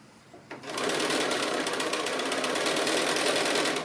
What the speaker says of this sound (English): I always like to do a little back stitch at this point, just to make sure I've got that corner all together